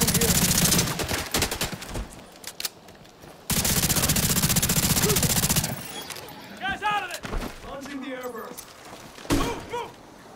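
Sustained automatic gunfire from the video game Tom Clancy's The Division 2, with long dense bursts and scattered single shots and thuds, loud and close, while game voices speak over the later part.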